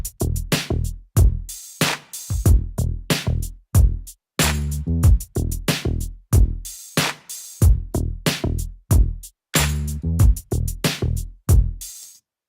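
A hip-hop beat recreating an instrumental, punchy drum hits with two layered deep, booming bass sounds beneath, repeating in a steady looping pattern with short pauses between phrases.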